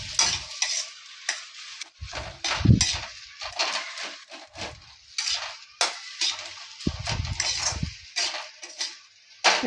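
Spice paste with turmeric and vegetables being fried and stirred in a pan, a bright sizzle broken by repeated scraping strokes and clanks of a utensil against the metal, close and fairly loud, with no talking.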